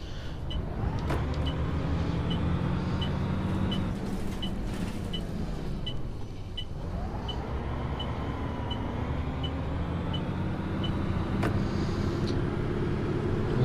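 Simulated E400 double-decker bus engine in OMSI 2, a steady diesel drone rising and falling through gear changes, with a regular ticking indicator and occasional clunks inside the cabin.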